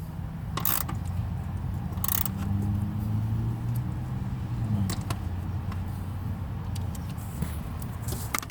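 A ratchet tightens a 10mm bolt on a bracket of a 2001 Dodge Durango engine, with a few short, close clicking bursts over a low background hum.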